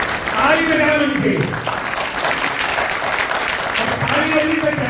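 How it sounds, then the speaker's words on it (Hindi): An audience in a college training and placement workshop hall claps in sustained, dense applause, with voices talking over it throughout. "ताली बजाओ उनके"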